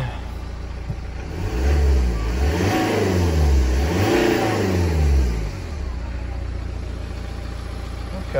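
A BMW X1 engine, recently repaired after a turbo failure, revs up loudly twice in quick succession, rising and falling in pitch before settling back to a steady idle, close by with no talking.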